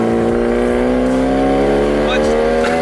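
A Genesis Coupe running an AlphaX ECU accelerates hard on a race track, its engine droning loud and steady from inside the car, with the pitch slowly climbing. Speech is also heard over the engine.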